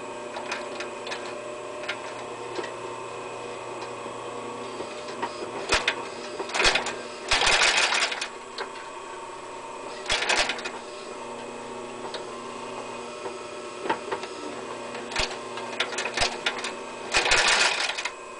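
An Adler 205-64 industrial sewing machine stitches through thick English bridle leather, giving short clattering bursts of needle strokes between quieter pauses over a steady background hum.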